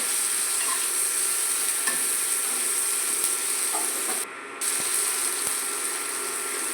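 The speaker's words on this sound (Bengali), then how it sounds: "আবার একটু কষিয়ে নিচ্ছি সব সিদ্ধ।" Cabbage sautés with spices and sugar in a pan for a Bengali yogurt cabbage dish: a steady, close sizzle runs throughout, with a few soft clicks as a spoon stirs and scrapes.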